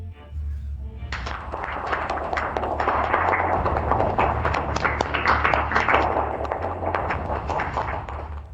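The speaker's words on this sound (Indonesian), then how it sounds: "Mari kita sambut dengan tepuk tangan." Applause welcoming a new CEO, a steady burst of clapping from a crowd that starts abruptly and continues evenly, fairly close, with a low hum underneath.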